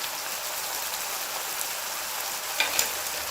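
Kaleji (liver) fries on a tawa with a dense, even, rain-like sizzle while being stirred, with a couple of brief scraping clicks near the end.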